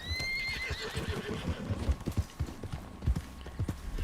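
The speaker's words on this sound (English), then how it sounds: "Your horse needs a carrot." A horse in the video game Red Dead Online whinnies with a high, wavering call near the start, followed by irregular clip-clop hoofbeats and snorts close by; no one speaks.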